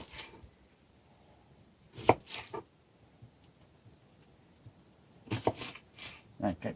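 An onion is chopped with a knife at a campfire, with two clusters of quick, close, crisp cuts against a board separated by a quiet pause; a voice speaks near the sound.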